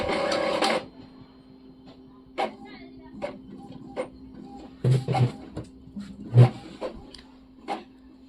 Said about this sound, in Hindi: अब मैं इसको प्रिंट दे रहा।